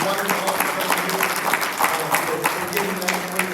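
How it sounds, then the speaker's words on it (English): Audience applause at an Arkansas joint congressional district meeting, honoring Senator Dan Sullivan: dense, steady clapping from a roomful of people throughout, with some talk mixed in. "let's all give a round of applause to Senator Dan Sullivan and all the co-sponsors"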